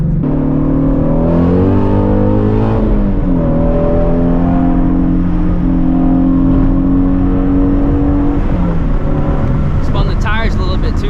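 Ford Mustang Shelby GT350 V8 engine revving loudly through downshifts, pitch sweeping up and down continuously at close range, with a voice exclaiming briefly near the end.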